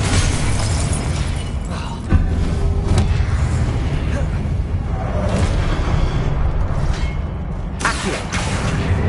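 Confringo explosive spells blasting in Hogwarts Legacy, a continuous loud wash of booming detonations and crackling bursts with sharp hits near two and eight seconds and muffled game action throughout.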